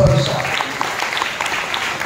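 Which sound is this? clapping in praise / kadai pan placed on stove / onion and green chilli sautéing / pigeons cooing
clapping in praise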